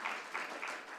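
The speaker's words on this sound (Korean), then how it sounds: "우리 인사하실 때 큰 박수로 축복해 주시기 바랍니다." A church congregation applauds teachers during a Sunday service, brief, faint clapping heard from a distance with a soft, even texture.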